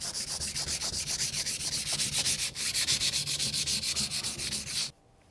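A Takeda knife is worked back and forth on a whetstone in steady, rhythmic strokes, dozens of them in quick succession. The gritty scraping is close and even, then stops abruptly near the end.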